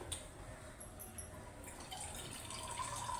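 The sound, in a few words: water being added to a pan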